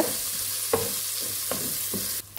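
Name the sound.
sautéing mint in a pan for mutton biryani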